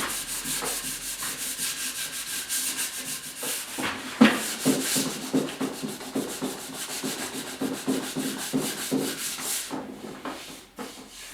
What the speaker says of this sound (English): Couple of spots here that I want to just give a light sanding to before I give them a little shot here of stain.